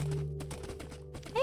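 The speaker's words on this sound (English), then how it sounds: "Hey, look, another horse." Horse hooves clip-clopping in Minecraft, a brief run of soft game footfalls over a steady low background hum, with a faint whinny-like tone at the end.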